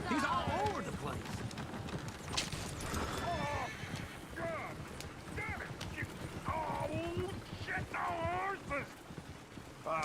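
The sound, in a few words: horse galloping in video game Red Dead Redemption 2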